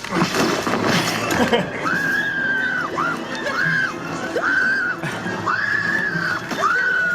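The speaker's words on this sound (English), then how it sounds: "Can we just play her scream again, just to haunt our dreams?" A woman screams repeatedly in long, sustained wails, loud and close, each cry breaking off before the next, in a scene from the film Jurassic Park III (2001).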